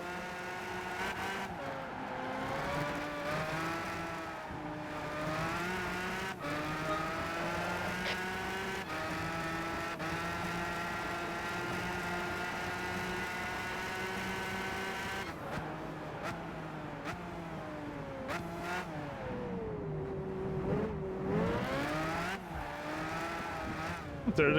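Race cars in the Gran Turismo 5 racing game, a continuous high-revving engine whine with shifting pitch as the cars accelerate and brake, steady and loud for the whole stretch.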